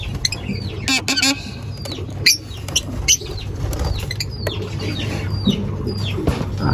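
Lovebirds in a breeder's nest box, a hen with chicks, giving repeated short high chirps and squeaks close by over a steady low hum, with a couple of brief rustling bursts.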